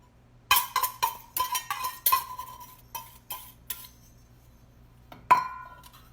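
A whisk clinks against a big bowl while egg is beaten, a string of bright, close ringing taps in quick irregular bursts, then a pause and one last sharp clink.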